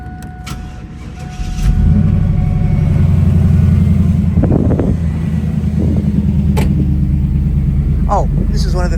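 A 1996 Chevrolet Camaro Z28 V8 with a Flowmaster muffler fires up and settles into a loud, steady, rumbling idle close by, with a few brief clicks over it.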